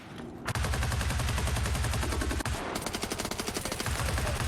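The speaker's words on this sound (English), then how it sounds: "PKP of Hyper out with the early suppressing fire" Sustained PKP machine gun suppressing fire in a competitive video game match on the map Equator, rapid continuous bursts, loud and close, with no talk.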